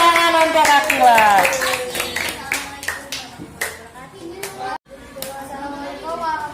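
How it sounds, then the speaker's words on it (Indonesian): A classroom of children claps for a pupil, scattered sharp claps ringing out while young voices chatter and call out over and between them. "tepuk tangan untuk Akila"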